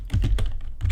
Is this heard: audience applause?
no